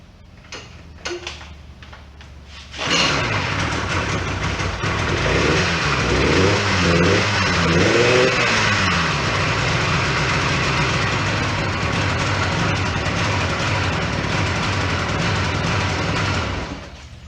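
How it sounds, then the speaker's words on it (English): An outboard motor assembled from spare parts is cranked with a few short pulls, then catches and runs at a steady loud idle with a fast rhythmic ticking chug, close by and without talk, until it cuts off near the end. "Let's fire it up."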